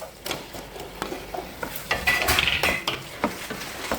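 Chicken breast pieces tossed in onion masala in a pan, with rapid spatula scrapes and clinks over a light sizzle, close and fairly loud, no one speaking.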